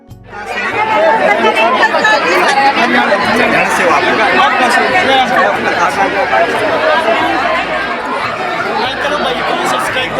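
A large crowd of pilgrims chatters at a temple, a loud, steady babble of many overlapping voices close by and all around, with occasional laughter.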